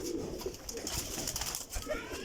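Female breeder pigeons coo softly in a busy loft, the murmurs overlapping with rustling and other background noise throughout.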